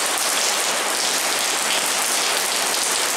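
Heavy rain pours down onto a shopping arcade roof in Yamato-Takada, Japan, with leaking water falling like a waterfall, in a dense, continuous hiss, loud and unbroken throughout.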